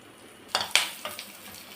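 Onions hitting hot oil with cumin in a pan for paneer lababdar, a few sharp sizzling bursts then a soft steady fry, close and fairly quiet.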